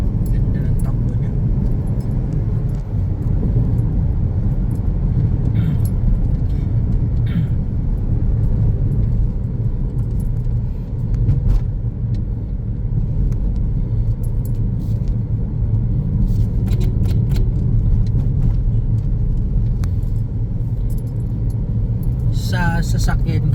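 A 2015 Toyota Vios on a test drive produces a continuous low rumble of engine and road noise inside the cabin, with occasional light rattles and clicks over the steady drone.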